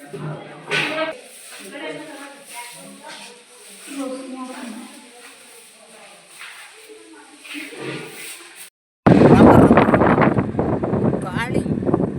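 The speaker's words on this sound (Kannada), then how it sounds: "ಗಾಳಿ ಮಳೆ ನಿಂತ್ಕೊಳ್ಳೋಕೆ ಆಗಲ್ಲ." Strong wind and rain rush loudly and continuously against the microphone in the final few seconds, following a stretch of people talking in a quieter setting.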